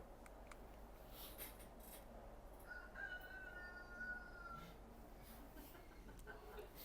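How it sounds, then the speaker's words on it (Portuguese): A rooster crows once, somewhat distant, its drawn-out call rising over steady low background noise outdoors. "O galo acordou cedo, né?"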